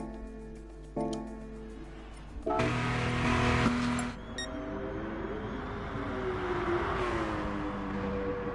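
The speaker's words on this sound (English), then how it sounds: "So tonight's car is a Ford GT." A Ford GT GT17 race car in Gran Turismo Sport at Fuji Speedway revs and drones near the listener. A harsh burst of noise comes early, then the engine note rises and falls steadily underneath.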